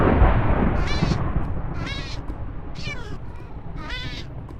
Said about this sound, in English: Thunder and then sounds of a cat taking damage